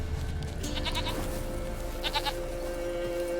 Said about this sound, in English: Here, goat.